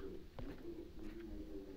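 A low cooing bird call, pigeon-like, sounds faintly a couple of times over a steady ambient hum in a video game, with no talking.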